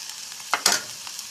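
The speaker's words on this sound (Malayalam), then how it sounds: "സവാള നന്നായിട്ട് ഒന്ന് വഴറ്റി വരണം" Onion sautéing in a pan, a faint soft sizzle with a couple of brief stirring scrapes in a short quiet stretch.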